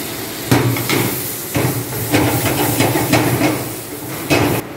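Garlic sizzles steadily in hot oil in a pan while celery and onion are tipped in, with several loud clattering impacts and scraping bursts over a continuous hiss, close and fairly loud.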